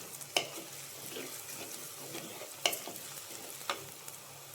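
Beef liver with turmeric frying in a pan gives a low, steady sizzle, broken by three sharp scrapes of a spoon stirring it at a slow, uneven pace.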